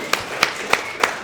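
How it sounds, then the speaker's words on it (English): An audience claps for a DJ at a student night out, sounding as four evenly spaced, sharp, close claps in a short run with no talk over them. "Let's give a round of applause for the DJ here."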